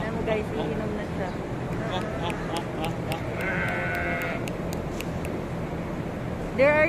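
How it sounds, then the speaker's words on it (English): Goats bleating at Al Wakra Central Market, a wholesale livestock market in Doha, Qatar, where sheep are also sold: repeated nearby bleats and one drawn-out call over a constant background murmur of market voices. "There are so many types of goat, by the way."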